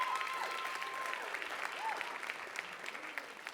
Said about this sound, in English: Big clap it up for them especially.